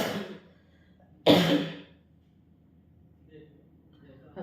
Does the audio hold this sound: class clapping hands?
no